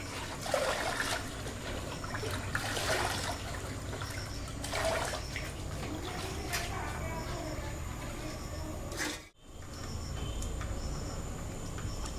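Running water splashes and trickles steadily while pieces of catla fish are rinsed in a home kitchen, with a few louder sloshes and a brief dropout near the end.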